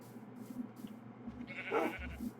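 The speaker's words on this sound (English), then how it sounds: "Okay, black sheep." Bleating of a black sheep in a block-building video game, one short call rising clearly out of a quiet, low ambient background.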